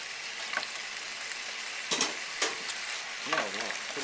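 Beet greens with their stems sizzle and sweat down in a pan, a steady close hiss of frying broken by a few louder crackles and stirring clatters, with no talking.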